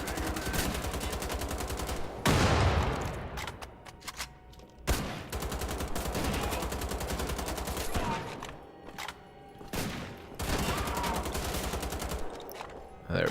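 Gunfire from the video game Wolfenstein: The Old Blood cracks in repeated bursts and single shots, loud and close, with brief gaps between volleys over a steady game soundscape.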